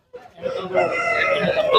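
A country rooster crowing at a rural livestock market, a single loud, close call rising after a short click, with a busy background behind it.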